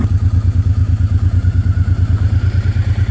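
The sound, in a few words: 1989 Honda Transalp motorcycle engine at 4,000 RPM, modified exhaust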